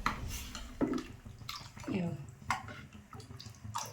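Water is poured into a pan of tomato soup, a short splashing pour heard under someone speaking close by.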